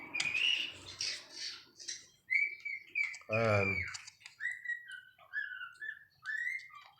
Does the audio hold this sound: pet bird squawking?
yes